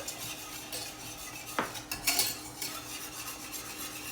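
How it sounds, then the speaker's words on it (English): A whisk scrapes and clinks against a bowl as turmeric is beaten into a vegan banana pudding mixture, with light rhythmic stirring and a couple of sharper metallic taps. "I'm whisking again"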